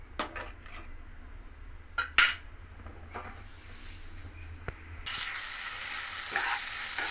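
Papaya curry, a Bengali papaya ghonto made with no added water, cooks in a pan: a few utensil clinks and scrapes, then a steady bright sizzle that grows louder near the end.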